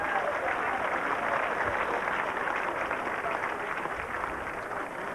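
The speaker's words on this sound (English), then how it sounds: "Big round of applause for all the milestones" A dense, even wash of applause at a football club champion awards night honours players' milestones, sustained throughout without pause or voices.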